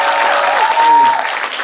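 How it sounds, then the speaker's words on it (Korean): An audience claps warmly at a special film screening with the director and actors present, a brief burst of applause in a hall as a host speaks over it. "감독님과 배우님들이 다시 한번 뜨거운 박수 부탁드립니다."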